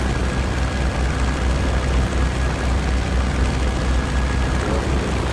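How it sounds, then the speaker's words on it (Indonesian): A propeller airplane flies in the Free Fire video game, a steady loud engine drone that fills the whole stretch without letting up. "Wih, naik pesawat orang."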